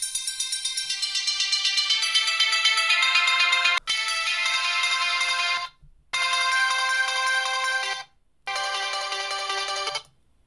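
Bright, high electronic Geometry Dash game music played back from a speaker and picked up by a microphone, a busy repeating melody that breaks off briefly twice, with no talking.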